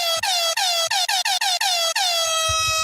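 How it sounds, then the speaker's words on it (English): A loud air horn blares in a rapid series of short honks, then one longer blast, followed by faint low rumbling. "he clearly loves the air horns"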